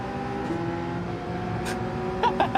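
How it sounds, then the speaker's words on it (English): McLaren race car in Gran Turismo 7 pulling away from a race start, its engine holding a steady droning tone, with a few brief sharp bursts layered over it near the end. "Watch how slow his car is off the start"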